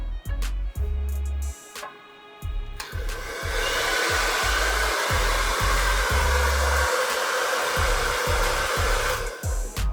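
A hair dryer powered by an ANSUN ES-600W portable power station blows with a steady, loud roar for most of the clip, with some thumping and handling noises mixed in near the start.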